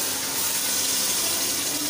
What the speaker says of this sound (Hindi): तो अब मैं इसके अंदर डाल दूँगी हवाला यखनी